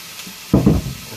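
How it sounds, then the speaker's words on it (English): Boiling water poured over rice in a pan for a vegetarian chop suey, a brief gushing splash and sizzle of about a quarter second, close and moderately loud against quiet kitchen background. "boiling water now, roughly 300 ml in with the rice"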